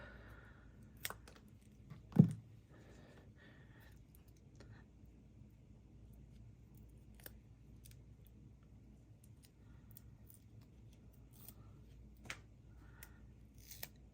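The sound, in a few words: scissors trimming paper for a card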